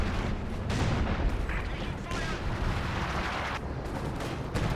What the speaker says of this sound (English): Artillery's coming down from Lipton's base.